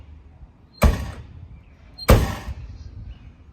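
Trunk lid of a classic Ford Mustang slammed shut twice, two sharp, heavy metallic thumps about a second apart, close and loud, each with a short rattling decay.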